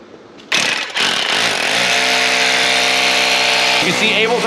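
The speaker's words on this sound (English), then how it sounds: "So we just pre-drill them with the roto hammer first" A rotary hammer starts up with a loud buzzing roar and grinds steadily into hard ground, pre-drilling a hole with a concrete bit. Close and continuous for several seconds, with no talk.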